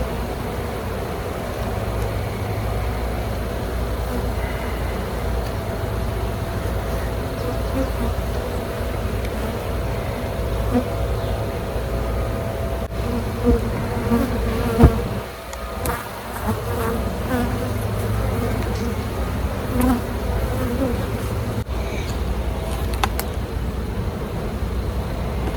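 Dense, steady buzzing of many honey bees close by at an open hive during burr comb scraping, continuous throughout with a few faint clicks and knocks near the end.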